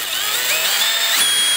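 DeWalt brushless two-speed hammer drill running, a loud steady high motor whine that climbs in pitch as it spins up, alone without talk.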